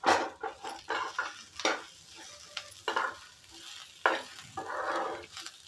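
Pigeon pea mixture roasting in oil in a pan, heard as a soft frying sizzle broken by repeated scraping stirs in an irregular rhythm, close and moderately loud with no talk.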